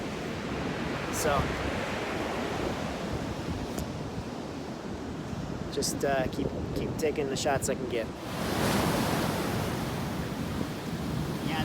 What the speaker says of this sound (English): a big wave came in like that